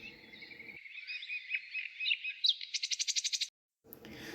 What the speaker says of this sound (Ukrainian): Сидить птах серед гілля, чорний, а не вугілля. В гарній шпаківні проживає, на різні голоси співає. Це шпак.